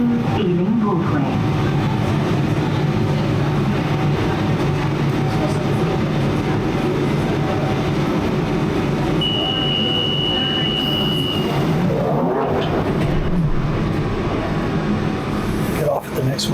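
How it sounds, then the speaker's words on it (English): A London Underground Central Line train to Ealing Broadway running through tunnels, a loud steady rumble and rattle with a brief squealing tone partway through, under an onboard announcement. "This is a Central Line train to Ealing Broadway."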